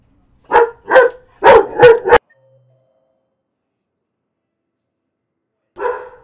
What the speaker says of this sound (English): My dog likes to bark at garbage trucks, apparently.